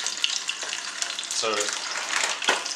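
Meat, rendering its fat with a sprig of rosemary, sizzles skin side down in a hot pan, a steady close frying hiss with a short burst of crackle. A voice speaks briefly over it.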